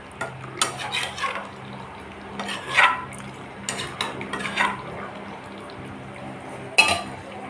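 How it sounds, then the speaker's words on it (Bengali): Chicken frying in a pan while being stirred and turned, spatula clanks and scrapes against the metal in uneven bursts over a quiet sizzle, close up. "আমি মাংসটা আরও কিছুক্ষণ ধরে কষাচ্ছি।"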